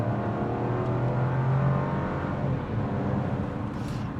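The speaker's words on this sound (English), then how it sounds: "the sound of this 3-cylinder is also really, really interesting" The 3-cylinder engine of a 2024 Buick Envista accelerates from inside the cabin, a steady, moderately loud low drone with a faint rising hum and road noise, continuous for a few seconds.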